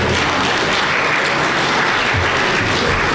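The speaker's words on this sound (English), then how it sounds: "Give him a round of applause." An audience applauds steadily, a dense, even wash of many hands clapping throughout.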